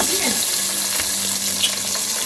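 Chicken pieces for a green chicken kebab fry in a pan with a close, steady, dense sizzle that runs unbroken from start to finish, with no talking.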